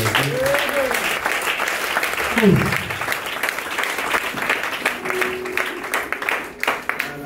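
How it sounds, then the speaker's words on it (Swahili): A church congregation claps together for Jesus during worship, a dense, continuous round of applause close by, with voices rising over it at the start. "Pigia Yesu makofi."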